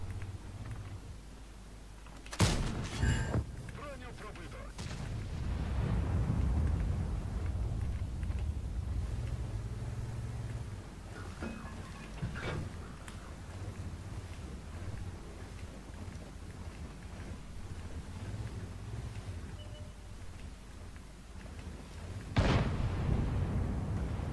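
Heavy booming tank cannon shots in World of Tanks, from the Japanese O-NI tank, ring out, one sharp blast early and another near the end, over a steady rumbling engine drone and wind-like noise.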